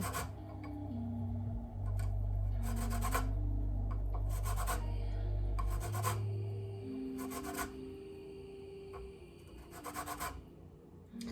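A zester rasps steadily against the peel of a lemon half, a continuous close scratching that goes on for several seconds in a quiet kitchen, with a low background hum.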